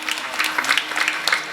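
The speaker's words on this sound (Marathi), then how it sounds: "या परिवारासाठी सर्वांनी एकदा जोरदार टाळ्या वाजवा" An audience claps for the host family at a Marathi kirtan, a devotional gathering: dense, scattered handclaps that hold steady throughout, moderately loud with a light crowd murmur.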